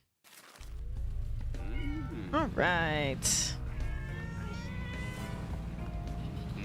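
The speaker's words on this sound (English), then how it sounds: "Happy cat noise." A cat in a PC video game lets out a drawn-out, rising and falling meow over a steady low musical drone, with brief speech at the start.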